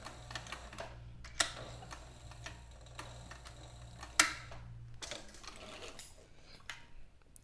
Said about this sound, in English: we're just gonna double stitch these in.